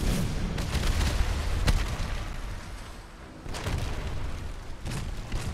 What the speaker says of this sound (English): Holy crap, you got a lot of cannons.